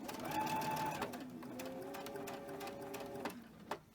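A sewing machine runs close up stitching cotton fabric, with a whirring motor hum and rapid mechanical clatter in a few runs, pausing briefly and ending with a couple of clicks.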